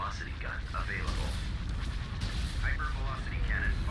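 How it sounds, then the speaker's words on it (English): Hypervelocity cannon fire in the Star Wars strategy game Fall of the Republic, heavy repeated booms rumbling under game voice lines and chirping effects, moderately loud. "Hypervelocity cannon fire."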